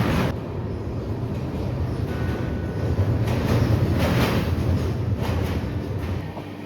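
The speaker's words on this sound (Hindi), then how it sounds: "घंटों बीतते गए और ट्रेन उत्तर की ओर बढ़ती रही।" A passenger train travelling north through northeast India rumbles steadily on its rails, heard from inside the carriage as a continuous loud roar with faint rattling.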